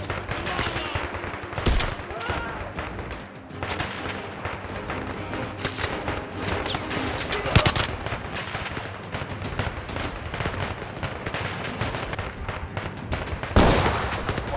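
Gunfire in the VR shooter game Zero Caliber: dense bursts of rapid shots and sharp cracks throughout, with louder volleys near the start, middle and end, and occasional faint voice underneath.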